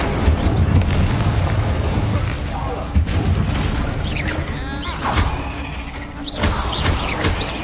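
An Incendio fire spell is cast in Hogwarts Legacy, a loud whooshing roar with booming bursts over a busy combat rumble, flaring again in sweeping surges later on.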